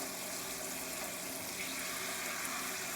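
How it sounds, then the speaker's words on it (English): Steady, loud tap water runs continuously over fresh collard greens being washed in a sink, a constant rushing stream with no pauses. "So just take your time and wash and clean your greens."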